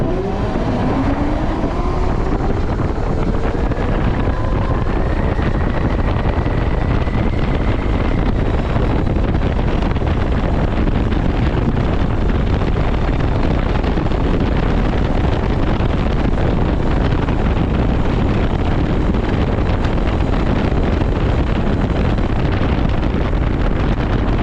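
A TERRA Prime electric motorcycle pulls away from a standstill, a faint rising whine climbing at the start before heavy, steady wind roar buffets the microphone for the rest of the ride.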